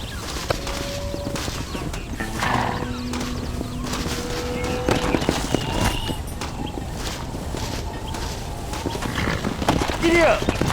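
A horse in the Western video game Red Dead Redemption trots with rhythmic clip-clopping hooves and gives a brief whinny, while voices speak over it throughout.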